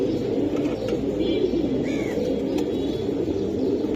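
Pigeons coo softly in a loft of Giribaz-type fancy pigeons, low throaty calls blending into a steady murmur of many birds, with a faint chirp or two and no talking.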